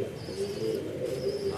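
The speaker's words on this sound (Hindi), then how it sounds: "ये आप मेरी स्क्रीन पर जो कबूतरों को देख रहे हैं" Racing pigeons coo softly and continuously from close by in a low, throaty, rolling murmur, with a faint higher call overhead.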